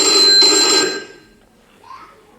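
A telephone rings once in a Turkish high school stage play, a bright electronic tone lasting under a second, loud and close, followed by a faint trailing sound.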